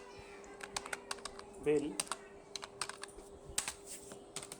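Computer keyboard typing while building a hospital bill in Excel, quiet irregular key clicks in short runs, with a speaking voice over them and a steady faint hum behind.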